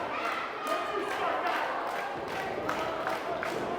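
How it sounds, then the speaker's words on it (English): A wrestling arena crowd at a live WAR Rumble event cheers steadily for a wrestler named Apollo, a dense, sustained roar with a few sharper whoops and thuds, heard alongside commentary talk. "You hear now the crowd getting behind Apollo."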